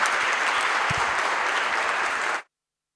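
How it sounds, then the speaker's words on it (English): Dense, steady audience applause fills a summit hall on healthy cities, loud and continuous for over two seconds before cutting off abruptly into silence. "Please could I have a big round of applause for Mayor Delgadillo, Vartainen, and Chitang"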